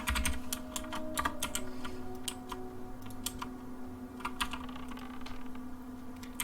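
Computer keyboard typing, loud and close, rapid irregular clicks and clacks in bursts with brief pauses, over a faint steady hum, no talk.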